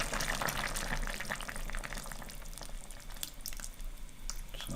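Heavy cream poured into a pot of creamy vegetable soup makes a soft, steady liquid trickle with faint bubbling and drips, low and continuous for several seconds without any talk.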